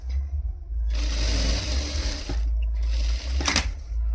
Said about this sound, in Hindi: तो देखिए हम सिलाई कर लेते हैं और ये यहाँ पे हम स्टिच करते हैं।